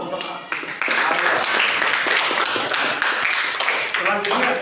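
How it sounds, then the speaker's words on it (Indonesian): A room of people in a school class on Islamic faith breaks into brief, moderately loud clapping for a student, dense hand claps running a few seconds after a short pause. "tepuk tangan dong untuk Arya"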